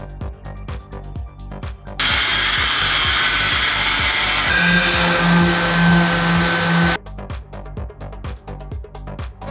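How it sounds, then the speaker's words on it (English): A drill-driven wire wheel grinds loudly against a surface on an abandoned Porsche for about five seconds, its pitch shifting midway, with quieter scraping before and after. "whipped something out a little more powerful, a wire wheel and a drill"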